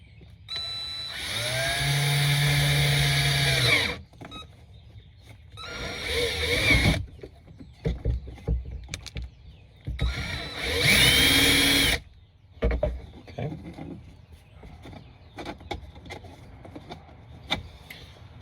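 A power drill bores mounting holes in a panel of a 2023 Can-Am Commander, whining loudly in three bursts of a few seconds each, with quieter handling clatter and muffled voices between them.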